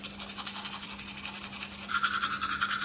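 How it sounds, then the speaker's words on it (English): Teeth are brushed with a flashing timer toothbrush, a steady close scrubbing with a faint electric hum beneath, growing slightly louder toward the end. "Teeth brushing time."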